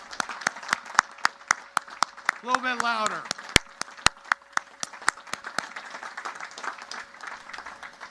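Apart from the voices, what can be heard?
applause from graduation crowd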